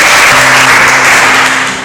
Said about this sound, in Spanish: Le brindamos un aplauso a él.